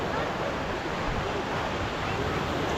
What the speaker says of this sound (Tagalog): Pero medyo malaki na yung alon.